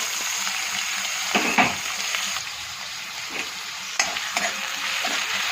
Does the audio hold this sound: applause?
no